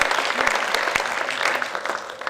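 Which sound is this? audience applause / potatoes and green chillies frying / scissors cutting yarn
audience applause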